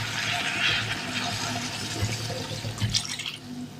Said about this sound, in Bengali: এবার কষে নিয়েছি, জল দিয়ে দেবো।